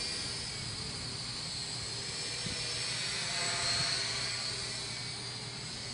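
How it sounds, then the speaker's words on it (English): A steady high-pitched whine of small rotors from a Blade mQX quadcopter hums continuously outdoors near trees, swelling slightly as the drone passes closer, with a low wind rumble underneath. "It tracks pretty good for a quad rotor helicopter."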